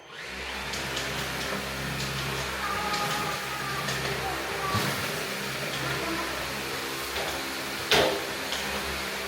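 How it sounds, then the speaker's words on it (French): A new vacuum cleaner runs at home, a steady close whirring drone that continues throughout, with small knocks and a louder bump near the end. "je fais aussi un petit coup d'aspirateur le matin, donc mon nouvel aspirateur, franchement j'en suis très contente, je sais pas si le bruit va être désagréable"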